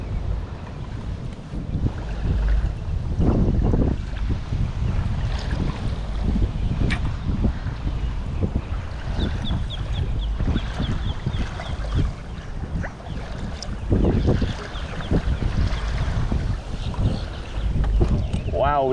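Strong wind buffets the microphone during paddleboard fishing near lily pads on a lake, a loud continuous roar with gusty surges and water sloshing beneath, while someone talks over it now and then.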